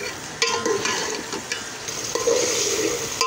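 Minced meat with bitter gourd and finely chopped tomato frying in a pan, a steady close sizzle broken by repeated scraping stirs of a spatula, with no one talking.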